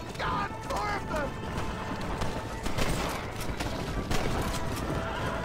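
Gunfire in the Red Dead Redemption video game rattles off in bursts during a horseback ride, mixed with hoofbeats, a horse's whinny and mechanical clicks, with a voice talking over the action.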